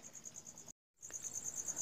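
Crickets kept for breeding chirp at night in a rapid, steady trill, broken by a short silent gap before resuming, faint and unaccompanied by voices.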